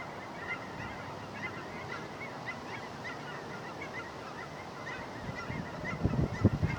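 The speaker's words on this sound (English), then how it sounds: "Oh, geese." Geese honk faintly in the distance over steady outdoor noise, the calls growing louder and more frequent toward the end.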